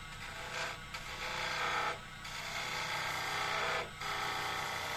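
Wooden workpiece spun on a lathe while a gouge rides its bevel, giving a steady hissing, rasping cut that swells and briefly drops out in a rhythmic pattern, close and fairly even.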